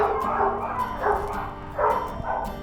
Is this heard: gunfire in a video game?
no